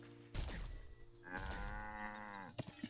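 Cow mooing in the video game Wytchwood: two faint, drawn-out moos, a short low call followed by a longer tonal bellow, heard alone without talk.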